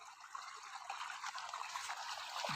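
Water running into a farm irrigation channel, a soft continuous trickling gush heard close by at low volume, without talk.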